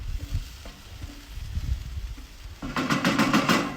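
Onions tipped onto a hot pan on a Big Green Egg ceramic grill and spread around, starting as low bumps and shuffles, then breaking into a loud, steady frying sizzle with stirring scrapes.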